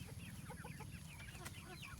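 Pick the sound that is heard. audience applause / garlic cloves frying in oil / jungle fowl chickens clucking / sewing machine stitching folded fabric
jungle fowl chickens clucking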